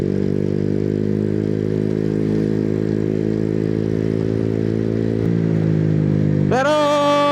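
A Honda Click 125 scooter with a Racing Monkey torque drive riding along a road, its engine a steady close drone that shifts pitch near the end, with no talking.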